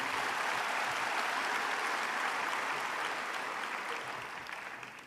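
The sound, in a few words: audience applause for speaker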